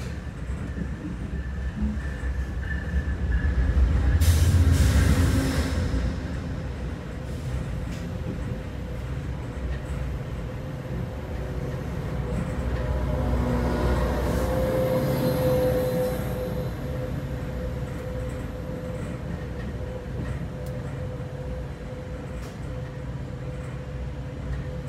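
Metra BNSF express commuter train pulling out of the Chicago train shed, with steady low rumble of rolling wheels and rail noise, a louder passing surge early on as an inbound set goes by, then sustained running noise.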